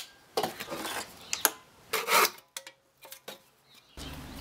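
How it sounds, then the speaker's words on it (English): A hand saw cuts small pieces of wood for clamp ends in a home workshop, with several short rasping strokes in quick bursts followed by quieter scrapes and handling noise, close and fairly faint. "Now measure, mark, and cut two pieces of wood for the clamp ends."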